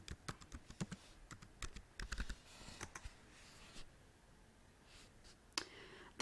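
A username and password go in on a computer keyboard: a quick burst of close key taps, then a slower scatter of clicks with gaps, ending in a sharper tap, quiet with no one speaking.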